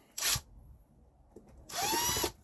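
A power drill drives screws into a Mercury binnacle remote control for a SeaPro 115 outboard: a short whirring burst, a pause with faint handling noise, then a longer high-pitched run of the motor, close up.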